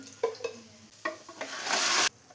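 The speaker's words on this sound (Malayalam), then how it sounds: "നമുക്കിനി ഇതെല്ലാം കൂടെ ഒന്ന് മിക്സ് ചെയ്ത് കൊടുക്കാം" Cooked mutton being stirred with fried onions in a pan for a Kerala-style mutton stew: scraping, clinking spatula strokes over a low sizzle, building into a louder hissing burst before stopping.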